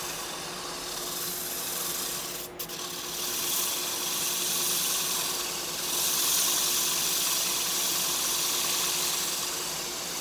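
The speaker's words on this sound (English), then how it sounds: "You can also reverse the lathe. And you can do the outside nice and easy that way." A wood lathe runs in reverse while a turning is sanded, giving a steady broadband whir with a faint motor hum throughout and a brief dip partway as the sanding shifts.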